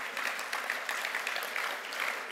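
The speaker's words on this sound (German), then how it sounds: "da darf man ruhig klatschen" Audience applause at a state party conference in Cologne, a steady wash of many hands clapping that swells and holds for a couple of seconds, with no speech over it.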